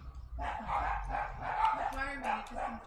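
Dogs next door at an outdoor firepit give repeated muffled barks and yips at a moderate distance, mixed with speech and low background rumble.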